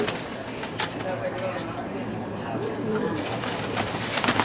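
Pigeons coo softly at a pigeon training loft, low murmuring calls drifting in and out beneath steady background noise, while someone talks nearby.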